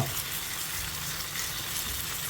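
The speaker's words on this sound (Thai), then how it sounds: "ช่วงนี้ก็เปลี่ยนมาใช้ไฟแรงเลยนะครับ เพราะว่า เราจะไม่ได้ผัดนานนะครับ ผัดให้ตับมัน สุกแล้วก็" Chicken liver stir-frying in a pan over high heat for garlic-fried liver, a loud, continuous sizzle and crackle of oil up close, steady throughout with no talking.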